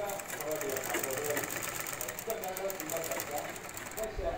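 A sewing machine stitches a blouse along marked dots, its steady, close whirring motor and rapid needle clatter running continuously without a break.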